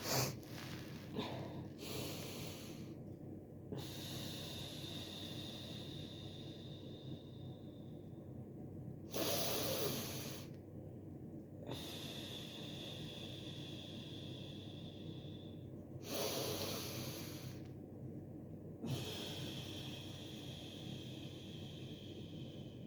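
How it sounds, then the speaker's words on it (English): Slow deep inhalations during a breathing exercise come as several long, soft breaths spaced several seconds apart over quiet background hiss. "Let's breathe in 2 to 3 times"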